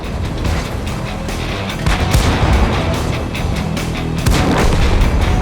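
Booming artillery fire echoes through a tank video game battle replay, with repeated heavy blasts and crackling shots forming a dense, continuous barrage at close range.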